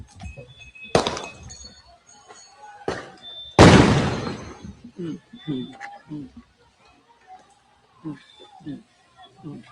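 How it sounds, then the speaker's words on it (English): Glass breaks and shatters several times outdoors, with three sharp crashes, the loudest scattering into a long tinkling spill, while a man mutters between and after them. "You hear the glass and shit shattering?"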